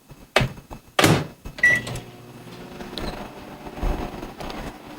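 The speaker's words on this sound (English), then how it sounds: "So I'm just going to put this in the microwave for about 10 seconds." A kitchen microwave oven, used to warm an ingredient for a protein ball recipe, gives two sharp door or latch clunks and a short beep. A steady, fairly quiet running hum follows for several seconds.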